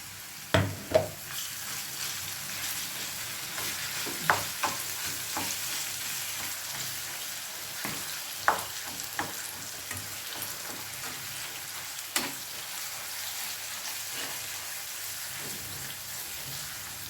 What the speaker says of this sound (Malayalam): ഇനി അതിലേക്ക് നമ്മൾ ചതച്ച് വെച്ച ഇഞ്ചി വെളുത്തുള്ളി